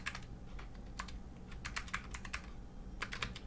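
Rapid keystrokes on a computer keyboard while writing Python code, irregular clusters of crisp taps with brief pauses, close and fairly quiet, no voices.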